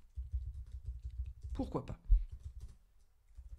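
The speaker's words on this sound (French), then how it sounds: "on va faire des saisies au clavier" Keys tapped on a computer keyboard while entering a command in a Python tutorial, a run of soft, quick clicks in the first half, then a brief spoken phrase and a few scattered taps.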